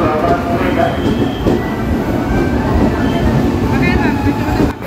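A short eight-car KRL commuter train, type TM 6000, arrives at a station platform with a steady loud rumble and faint squealing wheels, a voice speaking over the noise.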